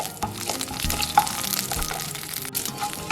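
Mustard seeds, cumin and urad dal frying in hot oil for a tempering, a steady close crackle and sizzle with occasional louder pops and stirring, no talk.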